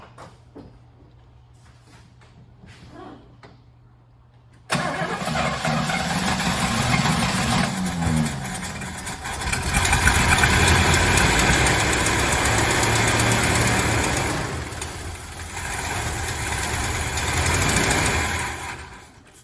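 A 1967 Oldsmobile 98 engine starts abruptly after a quiet stretch and runs at a rough, loud idle close by, its steady rumble rising and dipping slightly over about fifteen seconds, with no voices.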